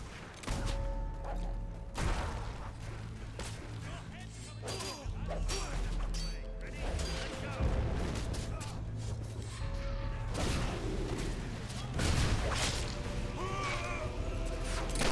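Mortar fire and battle noise from the video game Fable 3: heavy booming blasts, crashes and whooshes recur throughout a dense, loud fight, with occasional speech mixed in.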